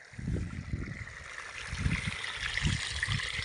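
Creek water running steadily with a soft continuous rush and occasional low gurgles, fairly faint and close, with no talk.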